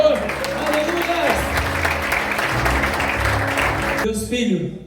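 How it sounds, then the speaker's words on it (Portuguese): A church congregation claps together in praise during a service, a loud sustained burst with music or voices underneath that cuts off abruptly near the end, leaving a brief tail. "vamos aplaudir ao Senhor"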